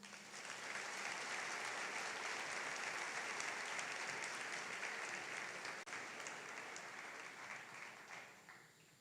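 Sustained applause from a church congregation during a sermon, a broad even roar of clapping that holds for several seconds and then gradually tapers off.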